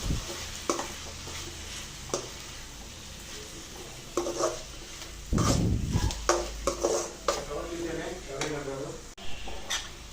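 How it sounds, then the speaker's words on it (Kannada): Beetroot palya with coriander fries in a pan, with a soft sizzle beneath scraping and clinking of a spoon stirring against the metal, intermittent and close. "ಇದನ್ನೊಂದು 2 ನಿಮಿಷ ನಾವು ಹೀಗೆ ಫ್ರೈ ಮಾಡಿಕೊಂಡ್ರೆ ಆಯಿತು."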